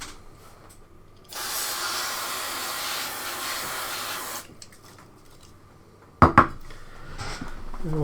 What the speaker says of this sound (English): Let me try getting a little bit of contact cleaner in there.